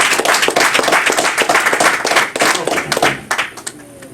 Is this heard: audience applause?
yes